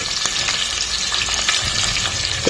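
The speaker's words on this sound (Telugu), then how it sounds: "మంచి గోల్డెన్ బ్రౌన్ కలర్ వచ్చే వరకు వేయించుకోవాలి" Sliced, crushed onions fry in a pan until golden brown for biryani, making a loud, dense, continuous crackling sizzle with small pops scattered through it.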